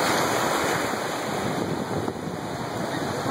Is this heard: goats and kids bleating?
no